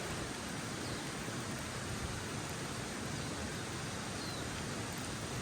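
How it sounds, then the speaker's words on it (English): Rain falls steadily at a campsite during changeable weather, a faint, even hiss that holds without breaks, with no voices over it. "We've got the rain now"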